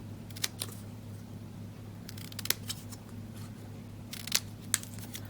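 Several sharp snips of scissors cutting paper, in two quick bursts separated by a pause, close to the microphone over a low hum.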